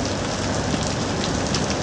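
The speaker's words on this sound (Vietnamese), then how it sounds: "mưa lớn rồi không dám đi tiếp" Heavy rain pours steadily onto a street in Nha Trang, Vietnam, a dense, even hiss with no let-up, close and fairly loud with no voices.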